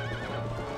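Horse in Zelda: Twilight Princess neighing with a wavering whinny over a steady clip-clop of hooves, game audio during horseback combat.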